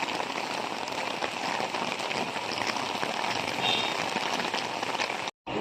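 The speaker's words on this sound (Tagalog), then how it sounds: "Lakas ng ulan." Heavy rain pours down steadily after a burial, a dense and even hiss of drops drumming on surfaces at close range, with no voices, cut off abruptly by a short silence just before the end.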